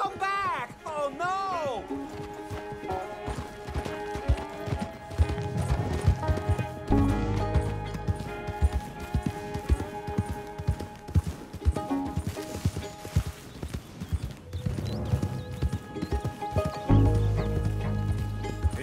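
A horse's hooves clatter in a steady galloping rhythm in Red Dead Redemption 2, under continuous music and game sounds, with a brief whinny near the start.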